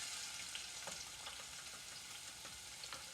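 Chopped onion frying on medium heat in a pan on an electric stove, a faint steady sizzle with light crackles and soft stirring scrapes, alone with no voices.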